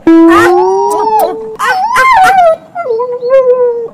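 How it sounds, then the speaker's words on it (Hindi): A dog howls in long rising and falling wails, breaking into whimpers and yips, loud and close, filling the whole four seconds with no talk over it. "कितना प्यारा कुत्ता है"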